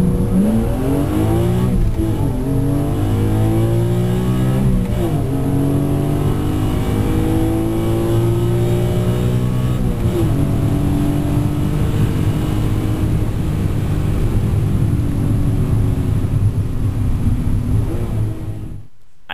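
Stock BMW M3 accelerating hard down a drag strip, its engine climbing through rising gear sweeps with brief drops at each shift, loud and close for the whole run before cutting off at the end.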